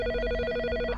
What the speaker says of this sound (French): Puis, le téléphone sonna.